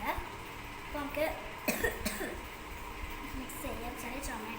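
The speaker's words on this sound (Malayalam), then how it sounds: "ചെറിയ ചുമയുണ്ട്." A person coughs a few times at close range while mixing a nannari sherbet, with short harsh bursts over a quiet room background and light kitchen sounds.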